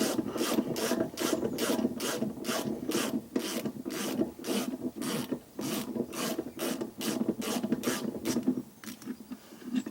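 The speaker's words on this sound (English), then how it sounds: "Remove the shock absorber bolt." Shock absorber bolt being undone on the rear suspension of a Vauxhall, a quick, regular ratchet clicking repeated throughout, close and fairly loud with no voices.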